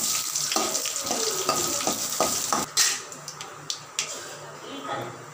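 Curry leaves, chillies, fennel, cumin and mustard seeds fry in hot oil for a Chettinad-style South Indian sambar, giving a steady close sizzle with crackles and a few sharp pops toward the end.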